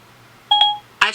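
A voice assistant gives a short two-tone electronic beep followed by a brighter chime, quick and clear against a quiet room.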